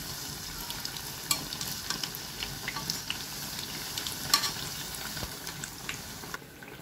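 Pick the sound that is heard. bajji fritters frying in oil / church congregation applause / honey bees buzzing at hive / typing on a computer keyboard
bajji fritters frying in oil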